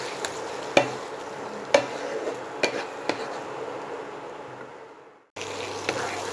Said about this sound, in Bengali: মশলা থেকে যতক্ষণ না কাঁচা গন্ধ যাচ্ছে আর সাইড দিয়ে তেল বেরিয়ে আসছে ততক্ষণ আমি মশলাটা ভালোভাবে কষিয়ে নেব